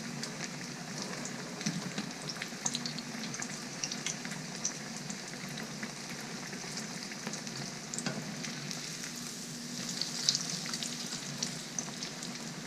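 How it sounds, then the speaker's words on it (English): Breaded chicken Kiev sears in hot frying oil, giving a steady, close crackling sizzle with fine popping throughout and no talking. "we're going to go ahead and put that into the oil"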